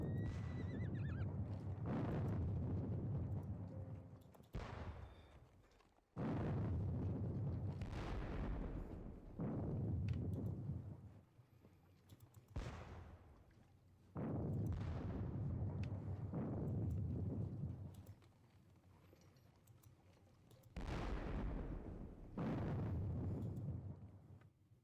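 Heavy guns in a Napoleonic war game fire as long, deep booming roars that swell and rumble out one after another, loud and sustained, with no speech.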